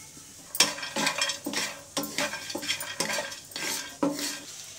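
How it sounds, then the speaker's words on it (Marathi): Whole spices and dried coconut being dry-roasted in a pan for Kolhapuri mutton, with repeated scraping stirs of a metal spoon against the pan, about eight strokes in a loose rhythm, close and clear with a faint sizzle underneath. "सुकं खोबरं आणि हा सगळा अख्खा मसाला म्हणजे तो आपण आता याला भाजून घ्यायचा आहे"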